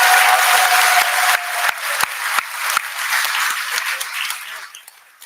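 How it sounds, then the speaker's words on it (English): Warm crowd applause for panelists at a community festival in Vancouver, loud dense clapping at first that gradually thins and fades, with a few sharp individual claps standing out near the end. "Let's have a warm round of applause for our panelists."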